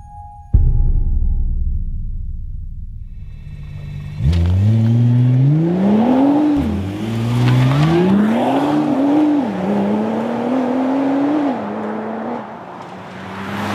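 A 2009 Nissan GT-R sports car starts up loudly, then revs hard through several rising engine pulls with shifts between them, close and alone with no talking.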